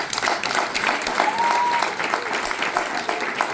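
Sustained audience applause at a stand-up comedy festival show, a thick, even wash of many hands clapping that holds steady throughout, moderately loud, with no talking over it.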